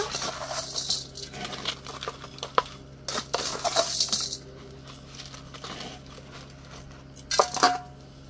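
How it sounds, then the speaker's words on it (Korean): Potting soil poured and scraped into a pot while repotting an oleander, soft gritty patter and scattered clinks coming in bursts, close and fairly quiet with pauses between. "자, 이렇게 해서 흙 넣어줍니다."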